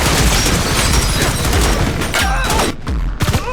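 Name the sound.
assault rifle gunfire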